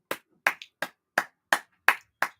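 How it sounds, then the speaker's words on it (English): Round of applause during a live watch-along of a women's FA Cup match: seven sharp, evenly spaced claps, close and fairly loud, with no talking. "I will give her a round of applause."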